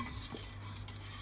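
A spoon stirring a Turkish pudding mixture with butter in a pot on medium heat, soft scraping and clinking against the metal, quiet and brief with no talk.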